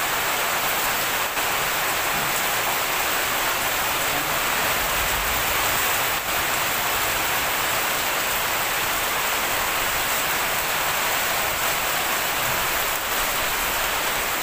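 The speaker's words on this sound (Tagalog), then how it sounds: "Dahil umuulan." Steady, dense rainfall hissing continuously, with no voices and no letup throughout.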